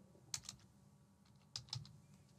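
A few quick computer keyboard keystrokes land in two short clusters over quiet background hum, close and fairly soft, with no talking.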